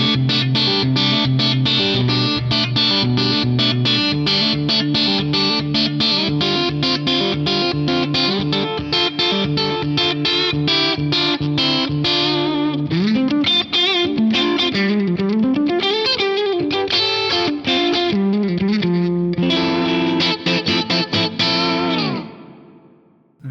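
Sustained electric guitar chords and melodic lines through an 1176-style compressor on an Axe-Fx III, smooth and evenly compressed, playing continuously at steady loudness before ringing out.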